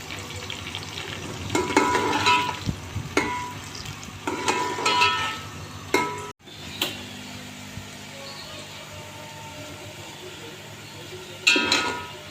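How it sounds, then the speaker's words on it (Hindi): Onions fry in roughly half a cup of oil, giving bursts of crackling sizzle and stirring in three or four spells with quieter gaps between them, plus a brief clunk midway. "और सबसे पहले हम ये प्याज फ्राई करके निकाल लेंगे।"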